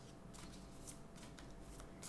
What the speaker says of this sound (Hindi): will pull out some oracle cards for advice and guidance